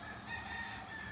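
A rooster crowing in Mexico, a faint, sustained call heard from a distance against quiet surroundings.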